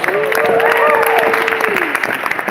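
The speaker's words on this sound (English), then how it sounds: "have a round of applause for all of our featured visual artists tonight" Audience applause in an armory concert hall for visual artists, dense steady clapping close by with a voice speaking over it.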